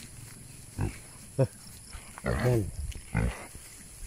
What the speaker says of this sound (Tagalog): At diretso kami nagpapalakad itong baboy.